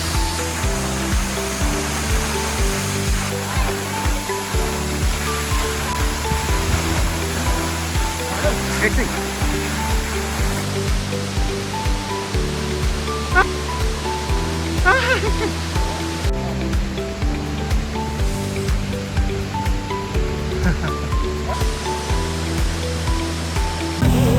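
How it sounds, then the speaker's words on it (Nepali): The 92-metre Mohini waterfall near Chitlang, Nepal, roars steadily and unbroken throughout, with a repeating musical pattern playing over the rushing water. "हामी यहाँ मोहिनी झरना आइपुग्यौँ एकदमै राम्रो थियो यो झरना"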